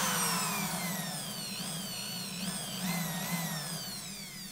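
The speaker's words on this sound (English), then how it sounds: "I moved the drill." Power drill spinning while winding a coil of vape wire, a steady close whine with pitch sweeping and wavering as the motor speed shifts.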